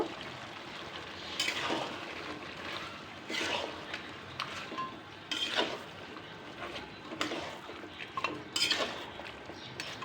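Potatoes and Malabar spinach stems tipped into a pan of cooking pangas fish, with repeated clatters and scrapes of a utensil against the pan over a low wet bubbling, fairly close and with no talking.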